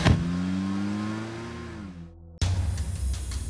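A car engine starts up and revs with a steady, rising hum that cuts off abruptly, followed by a broader rush of engine noise as the vehicle pulls away, close by in an action-film scene.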